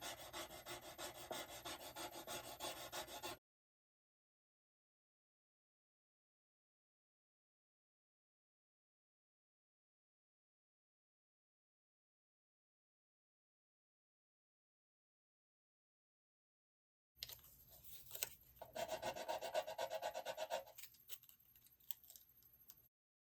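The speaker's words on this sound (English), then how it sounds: "now let's get our stick and start rubbing" Stick rubbed firmly across a rub-on craft transfer: a dry, scraping rasp in two bursts, a few seconds at first, then a long silence, then a second, louder stretch of close rubbing.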